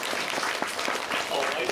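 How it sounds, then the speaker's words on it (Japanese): Theater audience applauding during a live show at a Tokyo DisneySea attraction, a dense steady patter of clapping at moderate level with a host's voice mixed over it. "みんな、お嬢ちゃんに拍手だ。"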